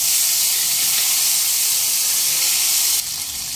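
Chopped tomatoes dropped into a hot pan for arhar dal, giving a loud, close, continuous sizzling hiss that softens slightly near the end.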